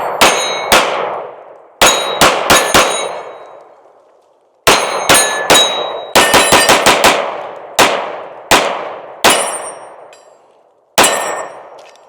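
Pistol rounds from a Smith & Wesson M&P 2.0 Compact in metal-frame form ring off steel plates in loud, sharp clangs, some as quick double taps and others spaced out, each ring decaying briefly, with no talking.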